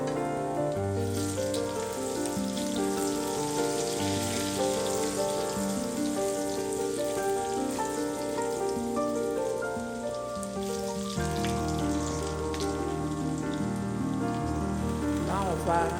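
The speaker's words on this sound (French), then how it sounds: "je vais mettre de l'huile végétale et faire revenir de l'ail ainsi que de l'oignon à fond pour un bon parfum" Garlic and onion sautéing in hot vegetable oil give a steady, dense sizzle and crackle that runs continuously throughout at moderate loudness, with background music playing over it.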